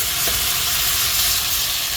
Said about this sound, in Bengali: আলু ভাজা কুমড়ো ভাজা বেগুন ভাজা আর ফুলকপি ভাজা বসিয়ে দিয়েছি